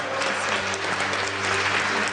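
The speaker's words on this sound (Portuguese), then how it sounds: "Uma salva de palmas ao nosso Deus." A church congregation applauds steadily at a Portuguese-language worship service, dense continuous clapping filling the room at an even level for about two seconds without speech.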